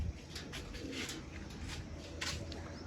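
Soft pigeon cooing repeats in low, murmuring bursts against a steady outdoor background hum, with faint higher chirps mixed in.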